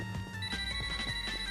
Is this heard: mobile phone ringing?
yes